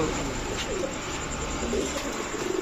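Large king-size pigeons (Giribaz, Gorra and Chila breeds) coo softly and repeatedly under a steady hiss of background noise, close by.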